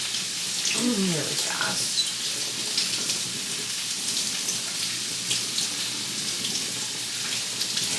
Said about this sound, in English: But I'm gonna rinse these